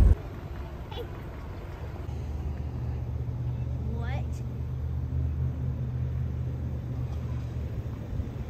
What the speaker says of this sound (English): We're driving down the road in this 73 Nova.